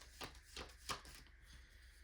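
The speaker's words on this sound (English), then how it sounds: "And you saw me shuffle." Tarot cards are shuffled in three quick riffling bursts, close and fairly quiet, with short pauses between them.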